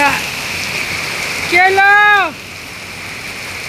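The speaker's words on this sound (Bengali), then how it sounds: "অনেক বৃষ্টি, কেমন বৃষ্টি নামছে দেখেন।" Heavy rain falls steadily through the morning as a continuous broadband hiss, with a short spoken question rising briefly above it partway through.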